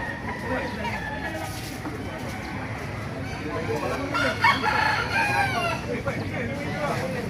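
Roosters crow and cluck amid the steady bustle of a gamefowl market in Baliuag, with several crows rising over the crowd noise while someone talks throughout.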